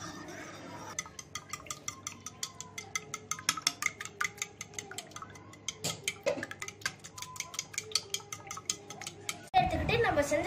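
A utensil rapidly whisking beaten eggs with salt, pepper and milk in a bowl, a fast run of close clicking taps and clinks, followed by a brief louder knock at the end.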